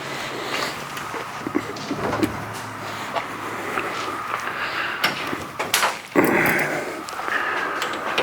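A hood is swung open on a car powered by a 572 Hemi, giving creaks, a clunk and a latch-like thump amid outdoor background noise, near and moderately loud.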